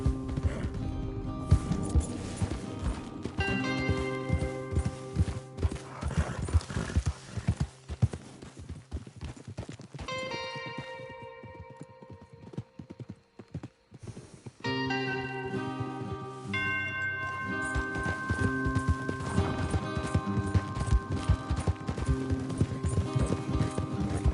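Horses' hooves clip-clop steadily in a video game, a near, continuous rhythmic patter with occasional whinnies over game music and ambience.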